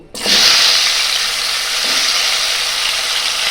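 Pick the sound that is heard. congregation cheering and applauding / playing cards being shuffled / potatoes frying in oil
potatoes frying in oil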